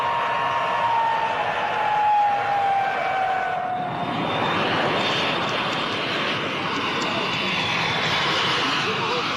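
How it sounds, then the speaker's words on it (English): A Comet jet airliner arriving on a flight from Munich and Athens, its steady engine roar and a falling whine filling the air at moderate distance, a broad rushing drone that continues throughout. "arrival of their Comet jet flight from Munich and Athens"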